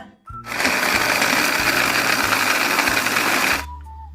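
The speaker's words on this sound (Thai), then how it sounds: "พริกแดงกระเทียม เอาไปปั่นจ้า" An electric blender purees ginger, red chili and garlic, a loud, steady motor whir that starts abruptly, holds for about three seconds and cuts off.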